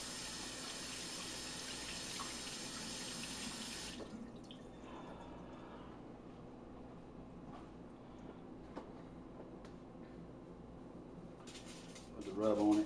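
A kitchen tap runs loudly as hands are washed during prep for a smoked pork butt. The steady hiss of water softens after about four seconds, continues at a lower level, and ends with a brief clatter.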